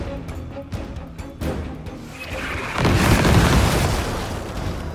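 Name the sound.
explosions from explosive enemies in the video game Gears Tactics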